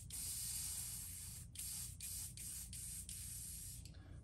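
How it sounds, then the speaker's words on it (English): An airbrush spray gun hisses paint onto a custom gizzard shad fishing lure in a long, steady spray broken by a few short pauses between passes, close and quiet, with no speech. "I'm definitely gonna have to clean the gun when I get done spraying today"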